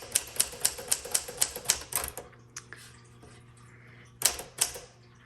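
Keys strike a 1960 Sterling manual typewriter in Alpine Blue at a steady, quick rhythm of about ten close, crisp clacks, then a pause with a faint mechanical shuffle before two more sharp strikes.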